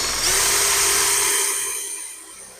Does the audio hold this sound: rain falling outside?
no